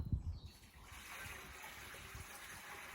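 Water is tipped straight from a bucket into a cement mortar mix, unmeasured. It opens with a heavy close splash, then settles into a steady trickling wash with no talk.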